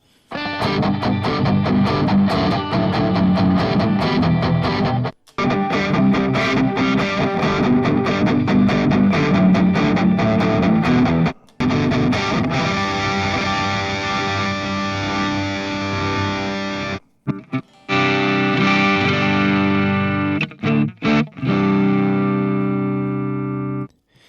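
Loud, heavily distorted electric guitar riffs played continuously through UAD Engl E765 and E646 amp simulator plugins, with brief pauses between phrases and a crunchy, processed amp tone.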